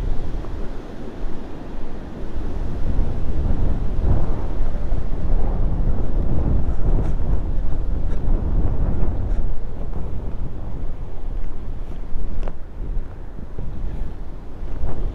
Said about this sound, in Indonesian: Tengok ini kencang kali anginnya.